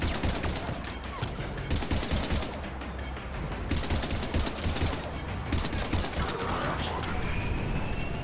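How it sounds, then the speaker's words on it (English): Enemy energy weapons fire in a Mass Effect 3 firefight as dense, continuous volleys of blasts. The shots keep coming over a heavy, noisy background with no letup. "Firing balls of energy at me."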